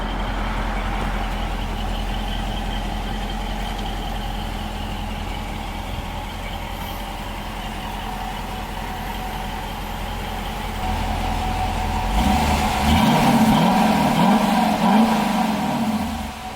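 Dodge Durango R/T V8 engine on its stock exhaust, idling with a steady low rumble, then revved harder near the end, loud and close with no talking.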